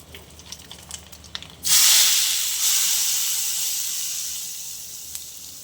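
Hot tadka tempering poured into dhal for dhaba-style dhal tadka, bursting into a sudden loud sizzling hiss after a quiet start, then steaming and fading slowly with no talk.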